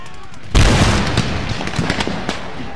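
A musket volley fired by a rank of infantry in the Napoleonic-era strategy game Empire: Total War, starting as a sudden loud crackling blast and then rolling on as dense overlapping shots and echoes that slowly fade.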